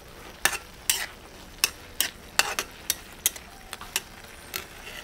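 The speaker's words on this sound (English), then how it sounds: "Haluin lang natin." Pansit bihon noodles stirred in a pan, a string of about a dozen sharp scraping clacks at an uneven rhythm, close and moderately loud over a faint steady background, with no voices.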